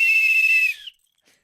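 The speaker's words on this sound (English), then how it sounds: "let's blow our whistles" Several whistles are blown together in one long, loud, shrill note lasting under a second, then cut off into near silence.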